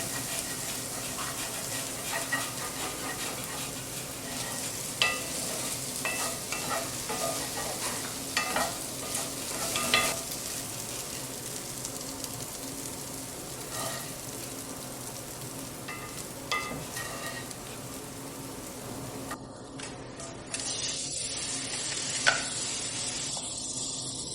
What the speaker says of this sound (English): Shallow fry these marinated prawns until they are beautifully golden, then set them aside.